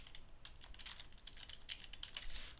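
Quiet, rapid tapping on a computer keyboard as a search parameter is typed, a short run of close, soft keystrokes in an otherwise silent room.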